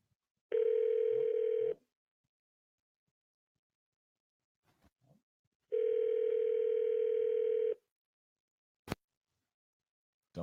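A telephone call rings out while waiting for an answer: two long, steady ringback tones separated by a pause, each lasting about a second, with faint clicks between them and a sharp click near the end.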